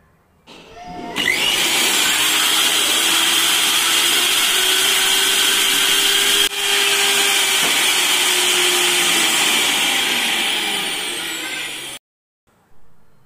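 Philips 750-watt mixer grinder with a turbo motor running steadily and loudly for about eleven seconds, a dense whirring roar that stops abruptly.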